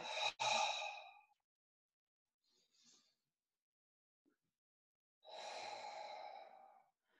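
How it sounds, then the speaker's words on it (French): Deep abdominal breaths during a yoga session: a long exhale, a quiet pause, then another long slow breathy exhale, close and soft with no talking. "Je viens activer cette respiration abdominale"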